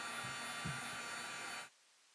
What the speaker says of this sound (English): just a heat gun, which is actually usually too hot for stuff like this